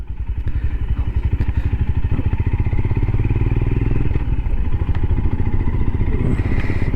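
Royal Enfield Himalayan single-cylinder motorcycle on a ride, its engine thumping in a rapid, steady beat with constant loud rumble and wind noise throughout.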